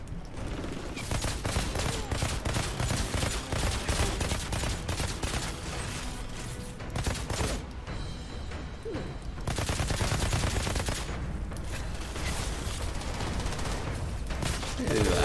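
Sustained volleys of gunfire in the video game Outriders, dense and loud, with bursts of automatic fire running almost nonstop, a brief lull near the middle, then heavy shooting resuming.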